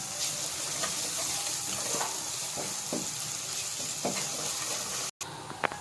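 Ginger garlic paste and turmeric frying in a pan for soya chunk fried rice, a steady moderate sizzle with light stirring scrapes, cut by a brief gap before the hiss resumes.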